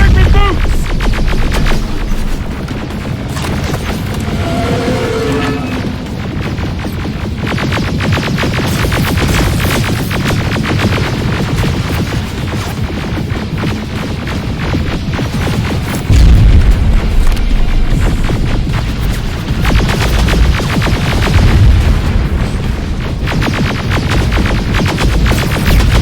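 Rocket and grenade explosions in the video game Terminator Resistance, a continuous loud barrage of booms and bursts over rumbling combat noise, with a brief voice near the start.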